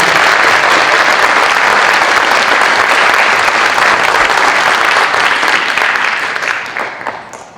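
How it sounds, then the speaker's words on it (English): A crowd at a middle school academic honors ceremony gives a full, loud round of applause that stays strong and dense, then thins and fades toward the end. "let's give the whole group one more round of applause"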